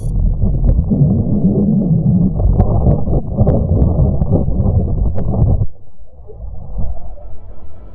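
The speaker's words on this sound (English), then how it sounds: "That was the sound of the Earth's magnetic field as recorded by the Italian Spring Accelerometer on" Earth's magnetic field sonified from data of the Italian Spring Accelerometer aboard BepiColombo: a low, murmuring, windy drone with faint clicks, dropping in level toward the end.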